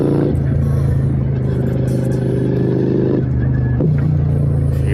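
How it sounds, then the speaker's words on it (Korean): A V2-engine motorcycle rides along at low RPM, giving a steady, close, loud low rumble with a slight shift in tone near the end. "저RPM으로"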